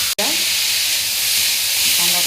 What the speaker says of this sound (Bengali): বাঁধাকপিটা ভালো করে কষিয়ে নেব